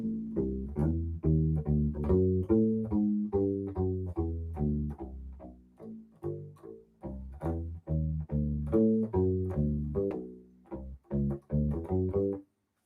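A walking bass line on a U-bass, steady plucked notes stepping along in even rhythm, warm and upfront, played alone with a brief pause near the end.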